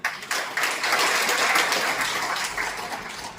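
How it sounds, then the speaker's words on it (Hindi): An audience at a trust event gives sustained applause, many hands clapping in a thick, even roar that starts sharply and holds loud for several seconds before easing slightly, with no speech over it. "एक बार जोरदार तालियां।"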